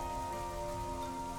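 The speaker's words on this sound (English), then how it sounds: "Oh, it's raining" Steady in-game rain from Xenoblade 3 patters continuously across the whole short stretch, a dense even hiss of drops falling on surfaces with no voices over it.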